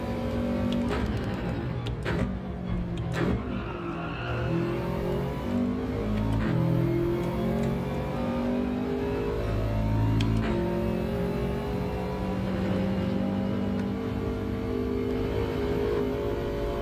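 A Subaru WRX engine revs in a racing video game, a continuous loud drone rising and falling through gear changes without pause, with no talk.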